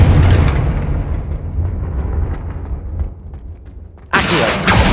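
A Confringo blast spell goes off in Hogwarts Legacy, a loud booming burst that rumbles and decays over several seconds before a second sharp crack cuts in near the end.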